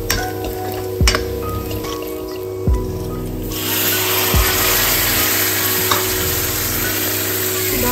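Spices including dried mango powder fry and get stirred in a home kitchen pan, a steady sizzle with several sharp scraping strokes of the spoon, the frying growing louder and fuller partway through.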